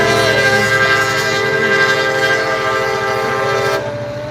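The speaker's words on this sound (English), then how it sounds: "One final train coming through." A train passes close and loud, its horn sounding in a sustained chord over heavy rolling rumble and rail clatter, then cutting off abruptly near the end.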